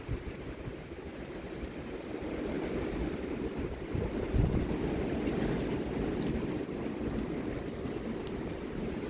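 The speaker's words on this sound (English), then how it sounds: "A little gust right there." Strong wind gusting through a heavy thunderstorm, a steady broadband roar that swells into a louder gust near the middle and keeps blowing hard, with no talk.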